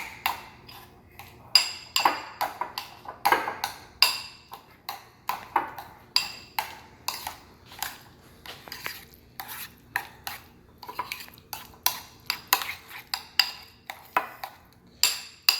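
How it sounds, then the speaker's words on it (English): A utensil stirs a creamy deviled egg filling with jalapeños and relish in a bowl, giving a steady run of sharp clinks and scrapes against the bowl, close and distinct with little else around. "mixing up this delicious mixture"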